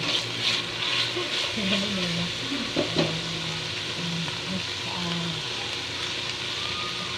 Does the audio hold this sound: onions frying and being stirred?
yes